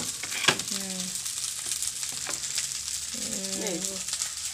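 Chicken fried rice frying in a pan, a continuous sizzle and crackle with occasional stirring scrapes, while voices talk faintly in the background.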